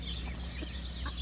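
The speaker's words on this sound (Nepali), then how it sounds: "हेर्नुहोस् है कुखुराहरू, आमामा यस्तो दामी छ लोकल कुखुराहरू." Local chickens cluck softly outdoors in sunny weather, a few short low clucks scattered over faint ambient background, quiet and close.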